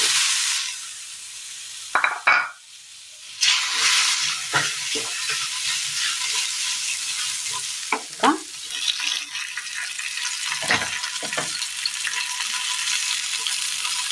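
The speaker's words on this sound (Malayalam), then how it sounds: "പാൻ അടുപ്പത്ത് വെച്ച് കൊടുത്തതിന് ശേഷം ഇനി ഇതിലേക്ക് നമ്മൾ ചക്ക ഇട്ട് കൊടുക്കാം." Jackfruit frying in a pan in a Kerala kitchen gives a continuous sizzle throughout, broken by a few louder scraping stirs; no one talks.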